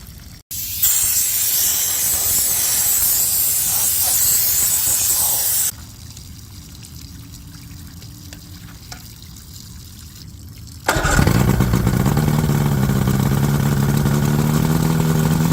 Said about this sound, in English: You notice we got a pretty good water leak there.